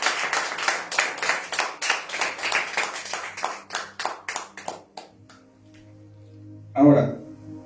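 A church congregation claps together in loud, steady rhythmic applause that fades after about five seconds, followed by a brief burst of a voice.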